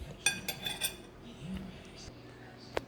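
Cutlery scraping and clinking on a plate while cutting into tender slow-cooked crock pot pork chops, a few sharp metallic taps and scrapes early on, then quieter scraping and one final clink, fairly faint.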